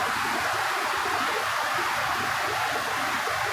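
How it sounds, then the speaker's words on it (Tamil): Water pours over rocks like a small waterfall beside a riverbank in a hill village, giving a steady, close, broadband rushing hiss with no break and no voices. "பாறையிலேருந்து தண்ணி விழுக ஃபால்ஸ் மாதிரி இருக்குது"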